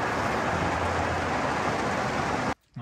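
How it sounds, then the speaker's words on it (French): Rain from a small thunderstorm over the mountains of Greece, heard from inside a camper cell: a steady, dense hiss that cuts off abruptly near the end. "Bon, il pleut à bord, mais un petit orage."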